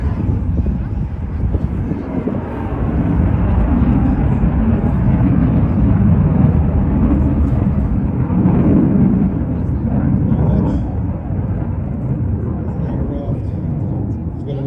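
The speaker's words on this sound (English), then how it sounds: "Now a hard turn back to see the afterburners coming back on." A jet aircraft making a hard turn at an air show as its afterburners come back on, a loud, sustained low roar that swells and holds through the whole stretch, heard from the crowd with some wind buffeting.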